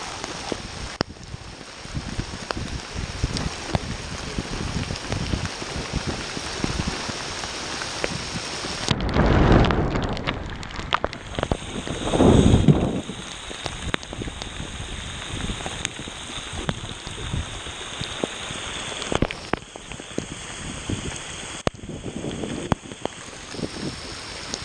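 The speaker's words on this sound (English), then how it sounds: "Well, it's all raining." Heavy rain pours down steadily during a downpour while someone fishes from a boat, a dense continuous hiss with two brief louder surges of splashing or rustling midway, no talking.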